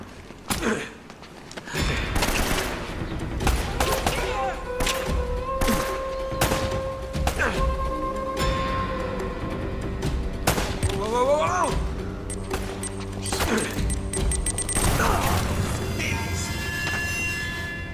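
Gunfire and grenade blasts in the Uncharted game: sharp, rapid shot volleys and thudding explosions at close range, layered over game music tones.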